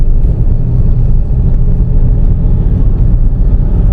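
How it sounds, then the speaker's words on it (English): A car engine pulling in third gear during a driving lesson, a steady loud low rumble with a dense, even drone and no clear rise or break, heard from inside the cabin without talk. "up into third, clutch back up, back on the gas, a little bit more gas"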